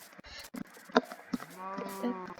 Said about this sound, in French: Ah, une vache.